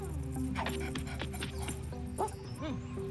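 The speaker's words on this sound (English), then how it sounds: "There's a poochie over there!" A dog in the video game BLUD gives short yips and whimpering barks over a steady, droning game soundtrack, with a few brief voice sounds mixed in.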